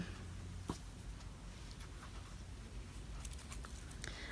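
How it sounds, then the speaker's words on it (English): Quiet scratchy snipping of scissors trimming fabric at a quilt string-block seam up close, faint, with a few soft clicks of the blades. "slide my scissors in until I hit that seam and just trim it"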